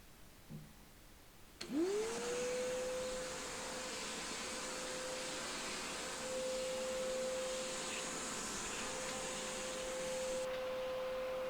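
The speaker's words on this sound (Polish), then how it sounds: "Podłączamy odkurzacz do prądu." A Bosch GAS 15 PS vacuum cleaner switches on with a rising whine, then runs at a steady, loud, even drone with a high hiss for about nine seconds before its high tone drops away.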